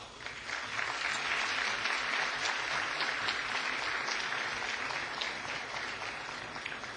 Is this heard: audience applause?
yes